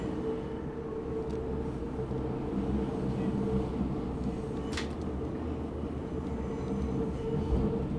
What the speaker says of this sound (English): Lovely 6-car train there.